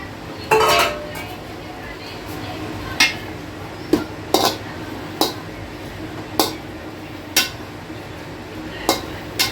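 Garlic and green chili stirred in a pan for an Arabian kabsa-style manthi, a series of sharp metallic clanks of a spoon against the pan at irregular intervals over low background noise.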